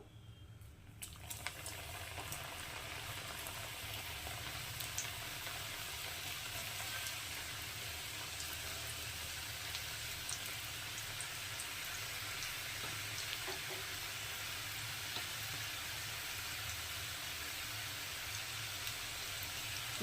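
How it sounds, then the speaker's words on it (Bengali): Nimki dough pieces frying in hot oil give a steady, even crackling sizzle that continues without a break, close and moderately loud, with no talking over it. "এবার এগুলোকেও ভেজে নেবো ওই একই পর্যায়ে"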